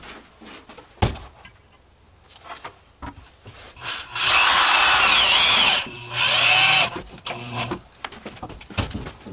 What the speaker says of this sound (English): Let's go ahead and drive our screws in.